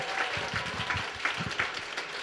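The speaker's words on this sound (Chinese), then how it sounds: "掌声一下。" A church congregation applauding during a Sunday service, a short burst of many hands clapping together in a room.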